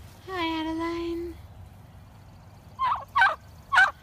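Turkeys on an animal sanctuary farm in Tennessee give three short, loud gobbles in quick succession, following a longer sustained call, with quiet background otherwise.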